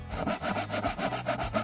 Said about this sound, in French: Essayons la scie.